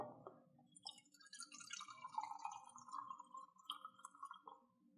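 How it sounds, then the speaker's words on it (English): Hot cooking liquid from a lamb dinner pours out of a Ninja Foodi pot into a measuring cup. The stream is a quiet, close trickle whose pitch rises steadily as the cup fills. "So I'm just going to pour some of this liquid out."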